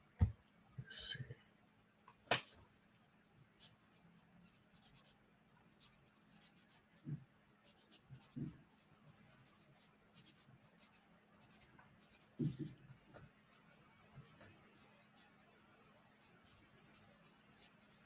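Pencil scratching across paper in a quiet room, soft intermittent strokes with a few louder taps and rubs, close and faint.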